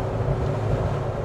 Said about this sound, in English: You can hear a lot more induction roar